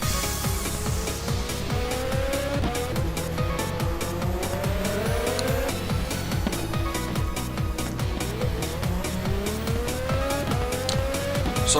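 Several race cars roar around the opening turns of a racing video game track at Monterrey, engines rising and falling with pitch sweeps as they pass, continuous and loud throughout, with no talking.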